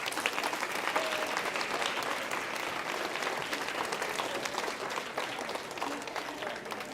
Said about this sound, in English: our Brian Borus deserve a round of applause for making it such a game